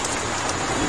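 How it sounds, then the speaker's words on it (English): Heavy rain with large drops pours down at the onset of a thunderstorm in southeast Queensland, a loud, dense, unbroken hiss of drops striking surfaces close by. "Large droplet size is falling."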